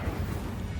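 An Incendio fire spell cast in the video game Hogwarts Legacy makes a short, loud crashing burst of fiery noise lasting under a second, heard alone without voices.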